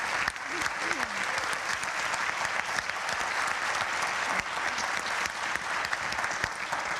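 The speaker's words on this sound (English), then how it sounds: "give a huge round of applause to the civil society colleagues" A conference audience at a closing session of a regional government meeting gives a long, steady round of applause, with dense overlapping claps that stay even throughout and a few faint voices underneath.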